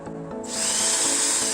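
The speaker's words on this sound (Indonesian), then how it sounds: "Oke, kita mulai bor dulu untuk membuat lubang bornya" A power drill bores holes into a DIY amplifier enclosure, its steady whine rising sharply after a brief quieter start and holding loud and continuous, close up.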